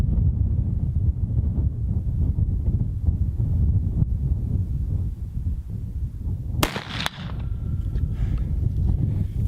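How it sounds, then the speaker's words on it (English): Strong wind buffets an outdoor target-shooting spot, a steady low roar of gusts across the microphone, with a sudden sharp crack-like burst partway through before the blustery rumble continues. "Now the wind's really blowing and it's causing another problem."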